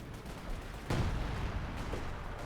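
A British 25-pounder gun barrage in the Company of Heroes 2 video game: a rumbling explosion breaks out sharply over a low continuous battle din, then a sustained roar of blasts, moderately distant and heavy.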